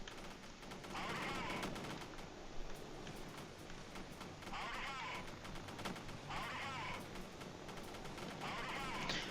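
Helicopters fire rockets in a military video game, a dense, steady barrage of rapid gunfire-like bursts and blasts rolling on for several seconds, with bright whooshing flares recurring at intervals.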